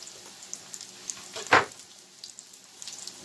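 Cod pieces fry in a pan with a soft, steady sizzle, broken by one sharp burst of crackling midway as the fish shifts; no one speaks.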